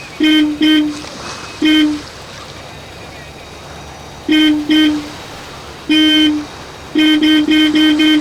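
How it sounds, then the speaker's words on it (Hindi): The horn of a white BMW car honks repeatedly in short blasts, some single and some doubled, loud and close, with quiet gaps of background noise between them. "हॉर्न बजाओ।"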